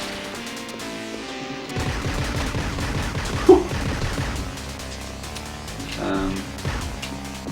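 Gunfire in the Judge Dredd game on a Sega Megadrive: rapid bursts of chiptune shots over game music, with one sharper impact midway, while a voice talks throughout.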